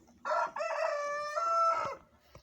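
Brahma rooster crowing once, a clear, fairly close cock-a-doodle-doo lasting about two seconds, heard alone in a poultry yard.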